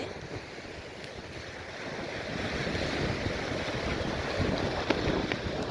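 Sea waves wash onto Devka beach in Daman, a steady, slowly building surf rush blended with gusty wind buffeting the microphone, with no talk.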